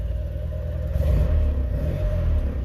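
A 1970 N600 car with a custom dual exhaust idles nearby in a steady, deep rumble that swells slightly midway, loud and alone with no talking.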